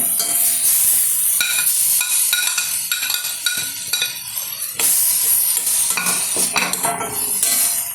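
Grated carrot stirred in a hot pan for a shallow-fried veggie cheese roll: steady loud sizzling with repeated scraping of a spoon against the pan, close and continuous, no voices.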